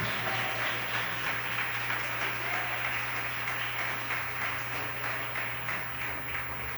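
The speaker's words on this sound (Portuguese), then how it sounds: "Aplauda Jesus Cristo por isso" Church congregation applauding during a sermon, a steady, fairly soft wash of clapping over a low constant hum, continuing evenly with no talking.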